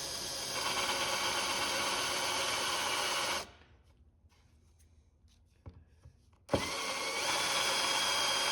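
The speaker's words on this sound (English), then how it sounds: "After drilling the 5/8 inch holes" A power drill with a Forstner bit whirs steadily into mahogany, boring 5/8 inch holes, stops for a few seconds of near quiet with small clicks, then starts again, close up.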